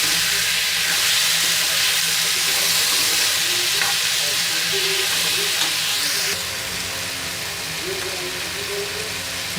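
Finely chopped tomatoes fry in a pan for bhindi sabzi, giving a steady, bright sizzle with the faint scrape of stirring, close and continuous throughout with no talking.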